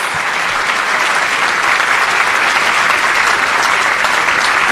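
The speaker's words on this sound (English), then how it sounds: "So let's take a moment to clap and celebrate." A large audience at a medical school white coat ceremony breaks into loud, sustained applause, a dense wash of clapping that holds steady throughout with no voices standing out.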